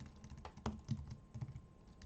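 Someone types on a computer keyboard while writing C/C++ code: a quiet, irregular run of soft key clicks with a few louder strikes, close by and alone.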